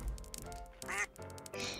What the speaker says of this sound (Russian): И тут одинокая уточка, что?